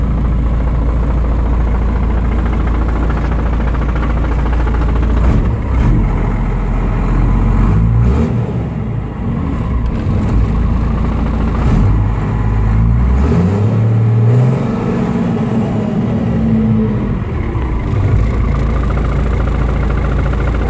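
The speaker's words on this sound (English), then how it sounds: "That's a side plate you hear rattling." A 1987 Ford F800 truck engine idles in a loud, steady low rumble, with a loose side plate rattling and buzzing irregularly over the drone.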